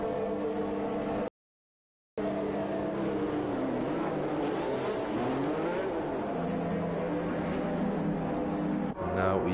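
Race car engines in a racing game idling and revving as cars line up on the starting grid in Bahrain, a dense continuous engine drone broken by a brief gap of silence, with a commentator talking throughout.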